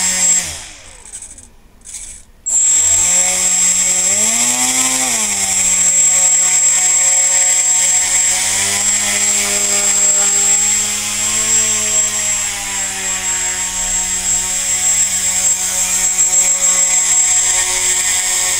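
A scratch-built RC tricopter's single motor and propeller spin up after a few brief taps, then hold a loud, steady, close whine and buzz that rises and dips slightly in pitch as the throttle changes.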